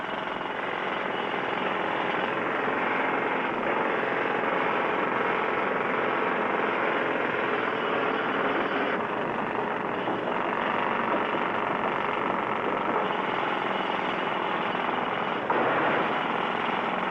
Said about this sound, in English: Get back to your drilling, Riley